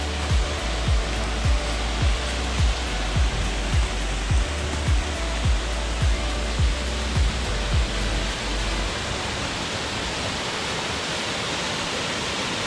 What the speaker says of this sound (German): Der Wasserfall von Ted.